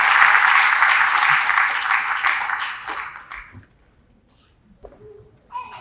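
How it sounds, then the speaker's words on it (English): An audience claps for guests on stage at an indoor cultural celebration, steady full applause that thins out and fades after a few seconds. "Let's give a big round of applause to the guest gathering on the stage today."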